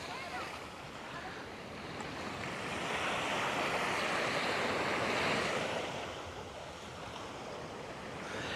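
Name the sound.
waves on the beach at Clifton Beach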